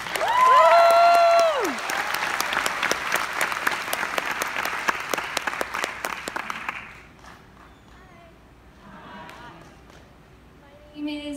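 Enthusiastic audience applause at a Las Vegas performance swells loudly and then thins out to scattered claps, with a brief musical tone and some voices near the start.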